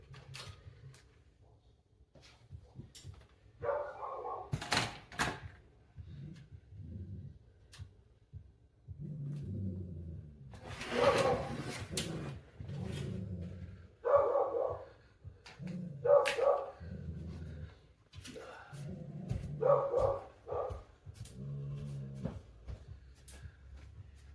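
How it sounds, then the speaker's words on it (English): Dogs bark loudly in bursts over about twenty seconds, sharp woofs and yips scattered irregularly, somewhat muffled as if from nearby, heard alone without talk. "Those fucking dogs are so loud, dude."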